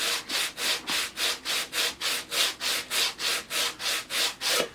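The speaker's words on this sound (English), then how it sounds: "I just wrapped some 40 grit over my old phone and just rubbing it back and forth" Hand sanding of wood using 40 grit sandpaper wrapped over an old phone, a steady back-and-forth rasping with about fourteen evenly spaced strokes, close and fairly loud with no talking.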